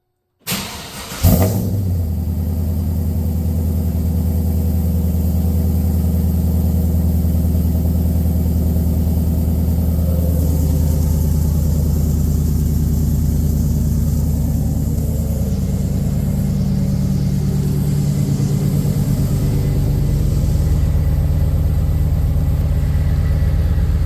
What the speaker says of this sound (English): Last cold start before the engine gets pulled.